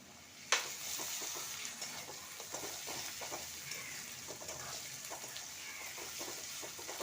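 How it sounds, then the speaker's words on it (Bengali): Ginger and garlic fry with onion in oil for an egg chicken korai bhuna, a steady close sizzle broken by repeated spatula scrapes and stirring clatter after an opening clack. "খুব ভালো করে ভেজে নেব।"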